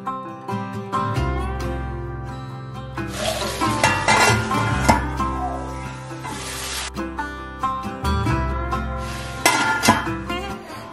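Chicken pieces stirred into browned onions in hot oil, with a steady sizzle and frying crackle plus occasional clinks of a spoon against the pan, under background music.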